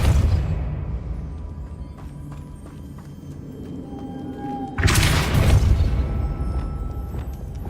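A Depulso spell goes off in Hogwarts Legacy: a sudden loud whooshing burst after a stretch of game ambience and small clicks, lasting a second or so before a rumbling background carries on.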